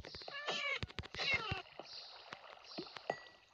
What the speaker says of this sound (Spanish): ¡Ahí hay un gato!